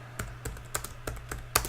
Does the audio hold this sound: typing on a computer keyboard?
yes